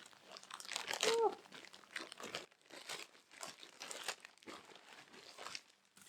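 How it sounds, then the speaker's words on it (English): A plastic bag is torn open and handled while unpacking new full-length leggings, giving continuous close, loud crinkling and crunching bursts over several seconds. "Let's open this bag."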